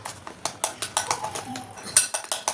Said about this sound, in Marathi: एका साईडने आपल्याला असं व्यवस्थित फेटून घ्यायचं आहे